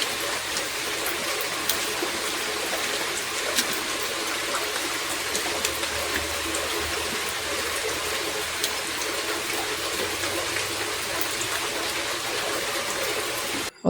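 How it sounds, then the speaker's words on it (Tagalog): Steady rain pours down outdoors near a garden where compost is being spread around a cherry plant, a dense, even hiss of drops that never lets up. "Ay, umuulan."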